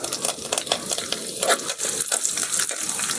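Curry leaves and dried red chillies frying in hot oil for an okra curry, a loud, dense crackling sizzle with sputtering bursts throughout, heard up close and without voices.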